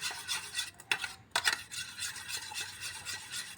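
A spoon stirs homemade moisturizer cream in a small bowl, making soft, irregular scraping and clinking strokes with a few sharper taps against the rim, close and quiet, with no talking.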